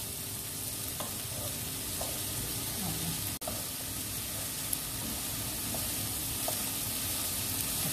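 Bell pepper and carrots frying together in a pan, giving a steady, even sizzle with soft stirring scrapes and a sharp click midway, with no talking.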